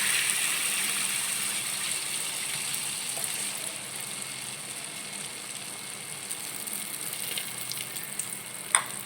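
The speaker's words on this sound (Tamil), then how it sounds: "இப்போ ஊற்றிக்கலாம். எண்ணெய் காஞ்சிட்ருக்கு பாருங்கள்." Paniyaram batter sizzling in hot oil in a pan, a steady, fairly faint frying hiss running throughout with a small crackling pop near the end.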